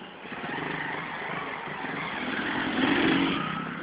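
Several motorcycles at a bike gathering in an industrial area rumble and rev together, the engine noise swelling to a louder burst near the end.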